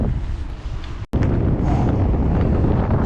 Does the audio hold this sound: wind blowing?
yes